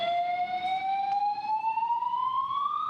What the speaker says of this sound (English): The alarm is now going off here in the parking structures at Terminal 4.